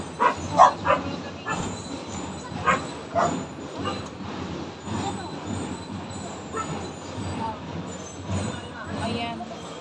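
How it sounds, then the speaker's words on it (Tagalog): Dogs bark in a few sharp bursts over a steady rumbling background, with people talking intermittently, during a visit to a house in Balingasag. "ang ingay-ingay na talaga ng kanilang mga aso"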